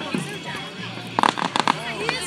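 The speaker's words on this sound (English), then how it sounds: "That was a neat little firework." A crackling burst of firework pops, several sharp bangs in quick succession, heard amid people talking nearby.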